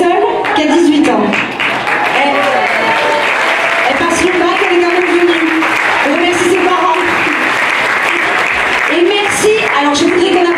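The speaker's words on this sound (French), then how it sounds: "On applaudit très très fort Sandynamite." Sustained applause from a dance-show audience fills the hall, loud and continuous, with voices from the crowd mixed in throughout.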